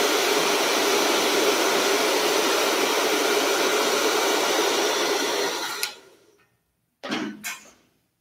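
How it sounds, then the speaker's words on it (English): A hair dryer blows on freshly sprayed hair with a steady, loud whooshing hum, then cuts off near the end before two brief bursts of airflow. "lock it into the hairdryer"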